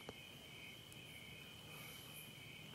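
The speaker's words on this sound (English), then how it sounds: "the crickets in the background" Crickets chirp in a steady, continuous high trill, faint and even throughout, with no other sounds.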